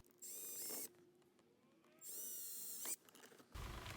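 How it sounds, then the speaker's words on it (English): A power drill whirs in two bursts of under a second each, drilling pilot holes for a center console panel, separated by a pause, with a brief mechanical click and rattle at the end. "drill your first pilot holes"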